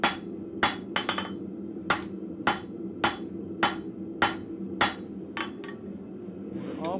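A blacksmith hammers out a long shallow taper at the forge, about ten sharp ringing blows in a steady rhythm, close and loud over a low roar from the forge.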